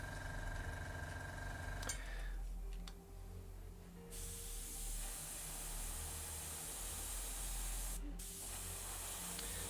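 An airbrush sprays paint on Khorne Daemons miniatures in steady hissing bursts, with a brief pause near the middle before the spray resumes, loud and close with no talk.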